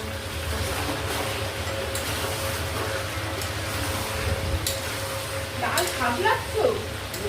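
Pre-fried potatoes hit a hot pan of chicken curry in a home kitchen and sizzle steadily and closely throughout, with a few clinks of stirring near the end.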